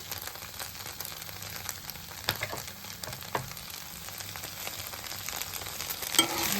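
Kaju chilli paneer, cashews and paneer, stirred in a pan over a high flame: a soft continuous sizzle with occasional spatula scrapes and taps against the pan, fairly quiet and without talk.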